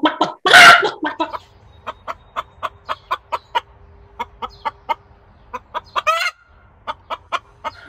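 Chickens clucking in a steady run of short, evenly spaced calls, close and clear, with one louder squawk early on and a brief burst of flapping or scuffling near the end, no talk over them.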